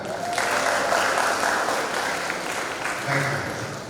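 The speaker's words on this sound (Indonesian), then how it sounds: "Tepuk tangan buat mereka." A wedding congregation in church applauds the couple after the kiss, steady dense clapping filling the hall for several seconds, with a brief voice or two rising beneath it.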